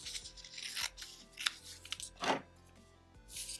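Scissors trim a sewn fabric seam in a series of close, crisp snips and rasping cuts, separated by short pauses, with no talk.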